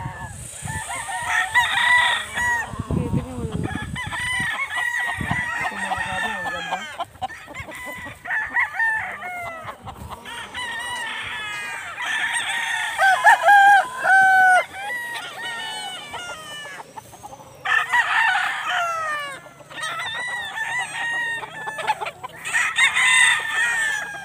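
Fighting cocks at a farm crow repeatedly and cluck, several birds calling in overlapping bursts at close to medium range, with a faint voice briefly in the background.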